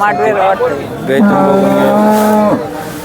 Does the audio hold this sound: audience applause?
no